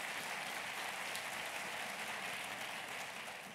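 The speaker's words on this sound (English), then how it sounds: "it's a round of applause" Forum audience in a large hall applauds in a steady, dense patter of many hands clapping at once, moderately distant and sustained without a break, with no voices rising above it.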